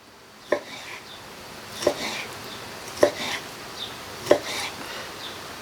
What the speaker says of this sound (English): Our steaks have cooled, so let's cut our steaks